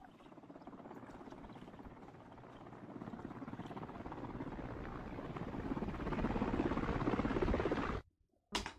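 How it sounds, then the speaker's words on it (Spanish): A distant helicopter drones with a rapid rotor patter, growing gradually louder before cutting off abruptly. "Eso es un helicóptero."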